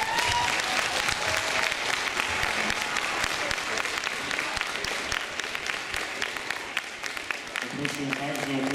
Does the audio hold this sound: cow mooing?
no